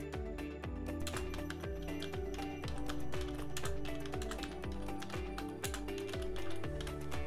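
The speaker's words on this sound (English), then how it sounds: "I can start typing and add my own info into it." Steady typing on a computer keyboard, with quick, irregular key clicks close up and at a moderate level, and no voices.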